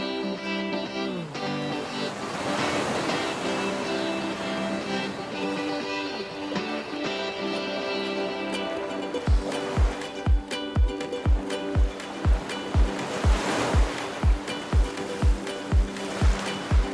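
Surf rolling onto a beach in Tulum, a continuous wash of breaking waves under steady tonal background music, with a run of regular low thumping beats entering in the second half.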